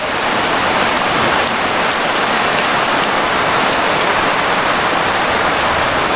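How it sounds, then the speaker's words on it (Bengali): Heavy rain pours down in a dense, loud, unbroken roar of drops hitting surfaces, steady from start to finish with no other sounds standing out. "রানতে রানতে শুরু হয়ে গেছে কঠিন বৃষ্টি।"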